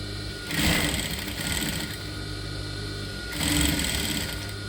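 Sewing machine sewing elastic onto a seam allowance for a Miyaki fold high waist top, in two loud stitching bursts separated by a quieter running hum.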